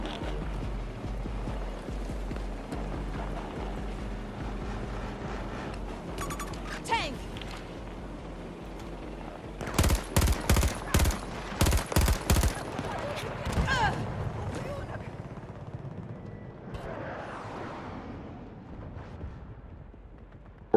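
Gunfire in the Battlefield 2042 game, a low rumbling battle bed broken midway by a quick run of sharp, loud shots in a rapid cluster, with a voice talking over parts of it.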